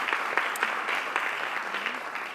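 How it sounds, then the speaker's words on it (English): Steady round of audience applause for a speaker at a business launch event, dense and continuous across the whole stretch with a few sharper claps standing out, no talk over it. "I think he deserves a better round of applause."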